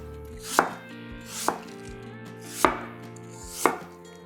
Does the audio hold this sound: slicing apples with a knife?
yes